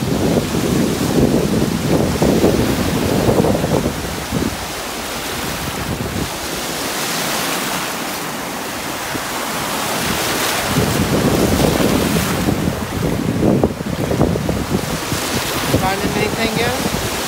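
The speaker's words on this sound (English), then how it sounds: "We're getting some big, not big, but pretty decent waves out here, which is nice." Ocean waves roll and break at Clearwater Beach, a steady loud wash of surf that swells and recedes over about seventeen seconds, heavy wind buffeting the microphone throughout.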